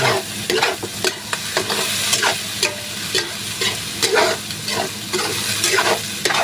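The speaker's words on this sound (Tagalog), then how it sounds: "Tapos haluin natin." Sardines, egg and pancit canton stirred together in a sizzling pan: a steady fry crackle runs throughout, broken by repeated spatula scrapes and knocks against the pan at an uneven rhythm.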